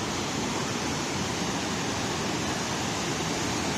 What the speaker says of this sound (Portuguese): Mas ao fundo ali a água escorrendo no escama-peixe.